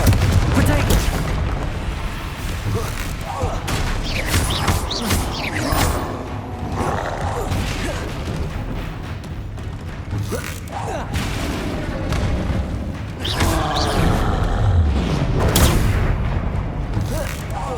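Magic blasting-spell explosions boom repeatedly in a Harry Potter video game battle with a troll, dense heavy impacts and rumbling bursts layered with game effects, while a player talks over the action throughout.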